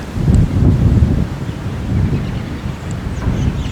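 Strong 25-mile-an-hour November wind blows across open public hunting land in Iowa during snow flurries, a loud, continuous roaring rumble with surging gusts buffeting the microphone.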